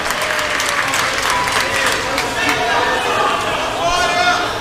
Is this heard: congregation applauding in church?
yes